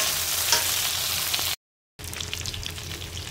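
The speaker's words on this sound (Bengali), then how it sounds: "এবারে আমি চিংড়ি মাছগুলো তেলের উপরে দিয়ে দেবো, হালকা করে ভেজে নেব।" Shrimp fry in hot oil in a steady, loud, close sizzle that cuts out briefly and then resumes, with no talking over it.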